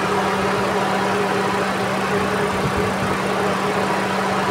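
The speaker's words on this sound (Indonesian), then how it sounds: "mesin Exora yang sehat, yang bagus, harusnya seperti ini" A healthy Proton Exora car engine idling smoothly, a steady even hum with a constant low tone, close and continuous with no roughness or variation.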